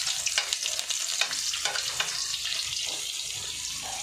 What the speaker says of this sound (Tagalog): ilagay ko na ang bawang dito sa uminit na mantika.